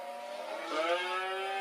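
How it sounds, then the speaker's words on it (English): A cow lows once in a single drawn-out moo that swells midway and then holds steady, heard alone and fairly faint. "It's a cow, isn't it? Well, I think there's lots of cows."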